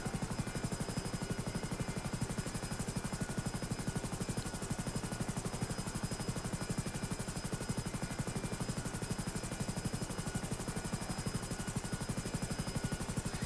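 A helicopter in the video game GTA Online, a loud, steady, close rotor drone with rapid even chopping pulses that runs continuously with no talk.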